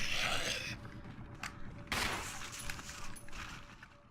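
Gunfire in the video game Resident Evil HD Remaster on hard mode, a burst of shots at the start followed by sharper single reports and mechanical clicks at a moderate level.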